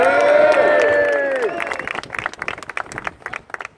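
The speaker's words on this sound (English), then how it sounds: "So let's have a big round of applause for Matt King" Crowd applause and cheering at a rally in Telford, rising as speech fades and continuing as dense, uneven clapping from many people, moderately loud and close.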